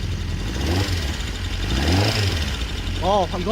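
A 2012 BMW S1000RR sport motorcycle engine with an abnormal knocking fault idles and revs up in short bursts, a low mechanical rumble with some clatter, close by, with a voice speaking over it.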